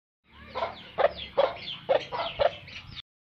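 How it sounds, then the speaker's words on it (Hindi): Aseel chickens cluck close by in a quick series of four or five sharp, throaty bursts, with no talking. "मैंने अपने घर पे चंद एक असील मुर्गे पाले हुए हैं।"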